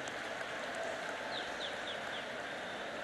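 Audience applause at the closing ceremony of the 36th National Games as the Vice President is welcomed, a dense continuous clapping wash held steady from start to finish, with faint chirps above.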